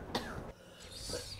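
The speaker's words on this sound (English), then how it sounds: "just cough right into the microphone." A couple of short, muffled coughs, fairly close and quiet, separated by a brief pause.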